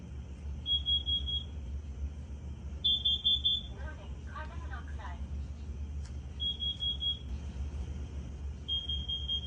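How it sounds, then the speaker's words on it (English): Several carbon monoxide alarms, including a Kidde KN-COSM-B, sound repeated high-pitched electronic beeps in short bursts over a low hum, with a voice talking in between. "we have another alarm. The bottom one in the middle, the Kidde KN-COSM-B."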